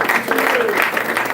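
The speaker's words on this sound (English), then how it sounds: "Applause to all the successful leaders in our business." Audience applause for successful business leaders at a distributor training event, a steady close wash of clapping over its full length with a voice and faint tonal sounds mixed in.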